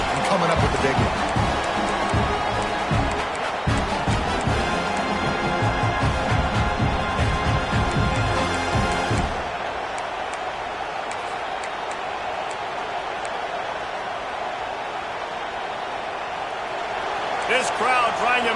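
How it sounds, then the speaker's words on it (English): A stadium crowd roars through a college football video game, a dense steady wash of cheering under an announcer's play-by-play that drops noticeably quieter partway through before rising again near the end. "This crowd trying to make life miserable for this offense."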